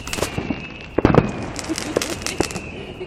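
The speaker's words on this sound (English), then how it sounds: "It's firework night!" Fireworks on firework night burst and crackle in irregular pops over a steady background hiss. Some are nearer and sharper than others, and the crowd's voices are mixed in with them.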